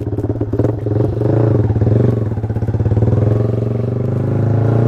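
A long-unused motorcycle with sticking brakes runs steadily and loudly nearby, a low rumbling idle with some clattering, no speech.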